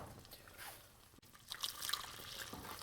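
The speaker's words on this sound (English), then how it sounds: "Water going in." Water is poured into a pot of melted butter for choux pastry, giving a soft hissing, trickling splash that builds after a brief gap and keeps running at low volume.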